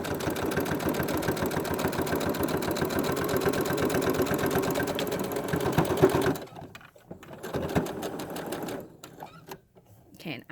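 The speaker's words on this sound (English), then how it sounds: "So I'm going to keep this lined up with that to keep my stitch even all the way down." A sewing machine stitching a small dollhouse valance curtain runs with a rapid, steady mechanical whir for several seconds, then stops. A person talks over the machine and keeps talking once it goes quiet.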